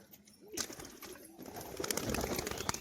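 Performing (bazi) pigeons, including a female, coo faintly in a loft, low and indistinct, with soft rustling and a few sharper bird sounds.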